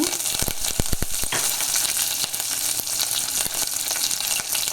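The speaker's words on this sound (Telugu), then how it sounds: "ఆవా జీలకర్ర వేసాను ఆవాలు వేసాను పిక్కలు చేసిన పచ్చిమిరపకాయ వేసాను కరివేపాకు" Mustard seeds, cumin, green chillies and curry leaves hitting hot oil, a loud dense sizzle with a quick run of sharp pops and spatters early, then steady crackling.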